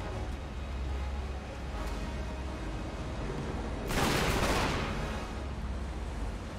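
A single loud burst of gunfire in the video game Uncharted 3 erupts partway through, brief and close, against a constant low background hum with no speech.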